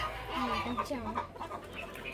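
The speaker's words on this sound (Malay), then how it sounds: "Tancau ni ekor panjang, jenis bantam." A long-tailed bantam chicken of the tancau breed clucking in a family farm yard, a few soft irregular clucks fairly close, with faint voices and outdoor background.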